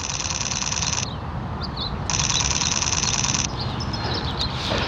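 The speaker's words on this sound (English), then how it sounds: "I have the shutter sound on just because I like the way it sounds." Rapid mechanical clicking bursts in two runs, like a camera shutter firing continuously, over steady outdoor background hiss.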